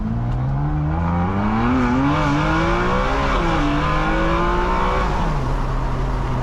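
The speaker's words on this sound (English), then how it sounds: "that Enzo V12 coming out of the front, the exhaust in the back" Loud, high-pitched Ferrari 599 V12 engine wail climbing through several gear changes, a racing roar that rises in pitch, briefly drops, then surges again without pause.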